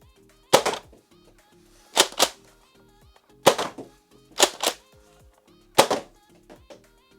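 A Nerf Rival Edge Series Saturn blaster fires five times indoors at roughly even intervals, each shot a loud, sharp snap followed closely by a second thunk, with no talking.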